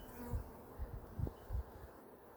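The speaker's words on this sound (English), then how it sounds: "Boy, there's lots of bees in this hive." Honey bees hum around an open, healthy hive during an inspection, a close low buzz that swells in several short pulses over faint background noise.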